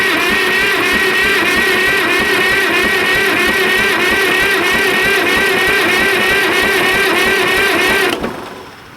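A Cat D330 diesel power unit idles loudly and steadily with a rough, chugging rhythm, then cuts off abruptly near the end.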